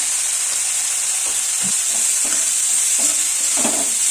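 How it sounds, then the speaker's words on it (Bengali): Spices with salt and turmeric fry in hot oil for a bread pakoda filling, producing a loud, continuous close-up sizzle with faint stirring knocks throughout. "একটু ভেজে নিই ভালো করে"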